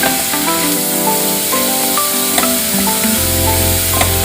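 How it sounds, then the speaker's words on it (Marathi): Garlic spinach with peas cooks in a pan, a steady close sizzle with light stirring clinks, the hiss rising louder near the end. "पालकला छान शिजू द्यायचं आहे"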